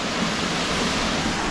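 Waterfall at a campground after flood waters: a dense, continuous roar of rushing water, loud and steady, with no voices.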